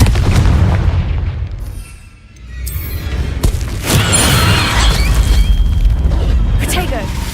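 In the Hogwarts Legacy game, a Confringo explosion spell goes off with a loud booming blast and a rumbling aftermath, set against other spell effects and background game sound.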